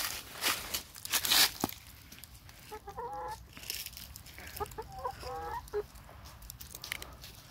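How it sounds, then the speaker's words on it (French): Hens cluck in short warbling bursts, calling for feed, among rustling and crunching noises nearby during autumn pea sowing in a garden, with scattered scratchy clatter in between. "Les poules qui m'entendent, elles me réclament à manger."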